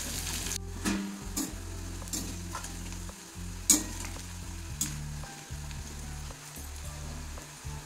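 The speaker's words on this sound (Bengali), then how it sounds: "একটু ভালো করে ভেজে নিতে হবে এটা।" Sliced bitter gourd sizzles steadily as it fries in a pan, with repeated scraping stir strokes throughout; close, continuous, and no talking.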